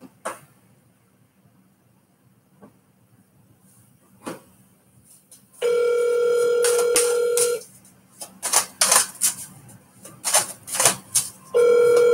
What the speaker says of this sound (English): don't start this not answering the phone call stuff with me tonight